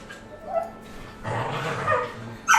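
Dogs bark, yip and whimper in a short, scrappy scuffle inside the Starbound video game, a few sharp outbursts rising and falling over about two seconds with a louder yelp at the end.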